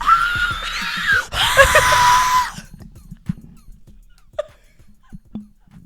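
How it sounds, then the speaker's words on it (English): A person lets out a loud, sustained scream lasting about two seconds, rising sharply and then breaking off, followed by quieter scattered sounds and faint breathy noises. "Sometimes you just want to scream."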